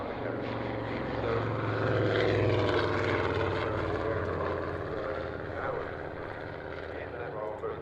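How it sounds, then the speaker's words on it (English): An Avro Anson, a twin-engine RAF aircraft, drones past on its last pass, a steady broad engine roar holding for several seconds with a slight swell in the middle. "Anson, last pass. The first RAF twin engine design to actually have retractable undercarriage."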